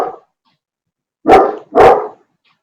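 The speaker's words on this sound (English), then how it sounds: "Sorry, that's my dog." A dog barks indoors, one short clipped sound, a pause, then two sharp close barks in quick succession.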